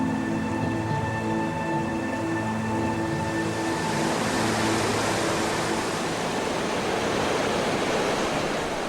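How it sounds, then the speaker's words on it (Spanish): Steady, broad rushing of the Shuri waterfall in the Siberian taiga, a continuous roar of falling water, loud and close, with a faint tonal hum in the first half that fades as the wash of water dominates. "La cascada Shuri, accesible en aquel verano de 1950, supone una complicada barrera para el grupo de Christoph."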